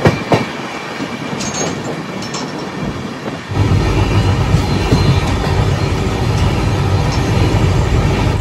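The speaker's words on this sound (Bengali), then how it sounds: "আর ট্রেন ছুটে চলেছে নিজের গতিতে" The Saraighat Express runs along the rails, heard from inside an air-conditioned coach as a loud, steady rumble and clatter that swells partway through and then holds without pause.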